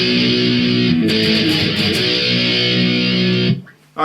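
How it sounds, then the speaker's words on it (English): Distorted electric guitar power chords from a song intro, loud and sustained with a slide, then an abrupt stop just before the end. "So slide and then play that pattern twice."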